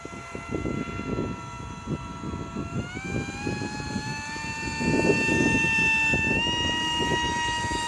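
An RC fan boat runs flat out, sails into the wind with a high, steady whining fan tone that steps up in pitch, over choppy rumbling wind and water noise.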